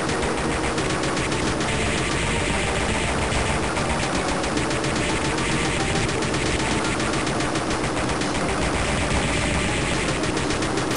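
Rapid machine-gun fire from the Castlevania: Aria of Sorrow video game, a dense, loud, unbroken stream of shots lasting the full stretch with no talk over it.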